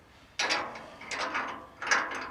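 A socket wrench with a large socket ratcheting a nut onto M12 threaded bar during a Series Land Rover restoration: three quick, separate bursts of clicking, crisp and close against a quiet background.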